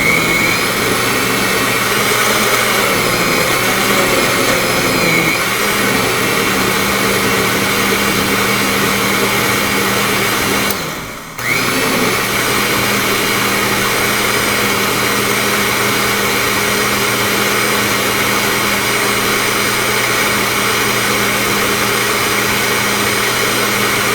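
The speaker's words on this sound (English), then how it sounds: "now I'm just going to put the lid on to the blender, and then I'll just mix all the fruit all together." A blender roars loudly and continuously, mixing pineapple, kiwi and orange, with a brief dip in the whirring motor partway through before it resumes at full power.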